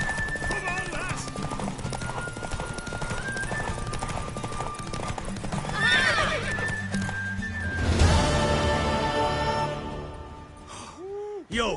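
Horse hooves clip-clop at a gallop while a horse neighs loudly in The Witcher 3: Wild Hunt, with game music and brief vocal sounds mixed in.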